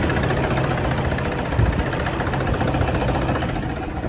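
A 2015 model vehicle engine idles roughly with a vibration fault and a check engine warning; a loud, steady low rumble continues unbroken, close by, with no talk.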